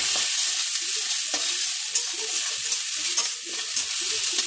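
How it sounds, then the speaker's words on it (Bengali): Grated ginger hits hot oil seasoned with asafoetida and salt, giving a continuous bright crackling sizzle with small spitting pops throughout, close and fairly loud with no voices. "এবার আমি আদা গ্রেট করে রাখা দিয়ে দেব"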